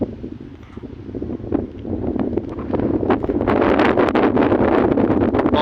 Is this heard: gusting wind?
yes